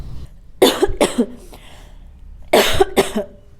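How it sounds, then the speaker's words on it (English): Two pairs of sharp, close coughs, a quick double cough followed after a short pause by another double cough. "Khansna is to cough."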